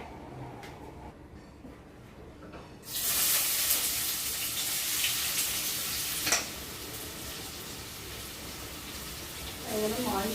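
Oil hits a hot pan for fish curry, and a broad sizzle rises suddenly a few seconds in and then holds steady, with a brief clatter midway and light stirring near the end.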